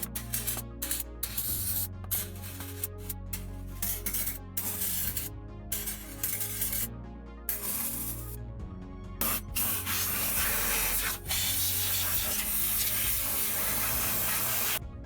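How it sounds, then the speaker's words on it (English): A can of degreaser hisses in repeated bursts, then in a long continuous blast onto a lathe, loud and close against a steady low hum. "before spraying it with degreaser to get the residue"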